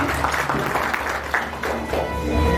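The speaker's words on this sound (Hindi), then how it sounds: "एक बार सर के लिए और यशदेव सर के लिए जोरदार तालियां बजा दीजिए" An audience at a taxi-driver meet-and-greet award event claps, a fairly dense and moderately loud wash of applause that continues steadily with small swells throughout.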